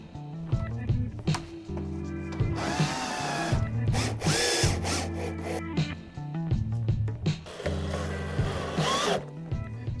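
A power drill drives self-drilling screws with washers through a low-line front splitter kit on a MK3 Ford Focus ST, in repeated close, loud whirring bursts with short pauses between screws.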